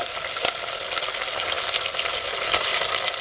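Masala paste for mutton sizzles and crackles steadily in hot oil as it fries, a dense close hiss with a few sharper pops, no talking.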